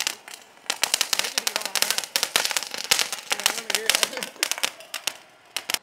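A flower pot firework, the handheld cone type, fizzes and crackles after being lit at a Sivakasi crackers shop, with dense rapid popping bursts throughout at close range.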